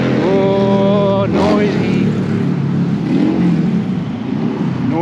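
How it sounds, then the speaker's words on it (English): Motorcycles roar past loudly and continuously, with engine revs rising and falling over steady traffic noise and a voice talking alongside. "noisy motorcycles"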